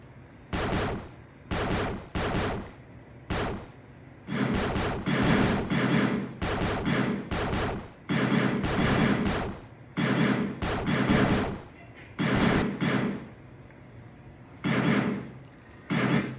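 Automatic tower gunfire from a Unity tower defense video game comes in rapid bursts, loud and close, starting and stopping in repeated clusters with short gaps between volleys.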